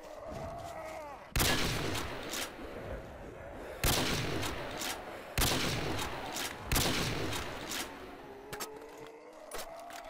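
Loud, booming shots from an Intervention sniper rifle in a Call of Duty custom zombies map set in Hogwarts, four or five heavy blasts spaced a second or two apart, each with a ringing tail over game ambience.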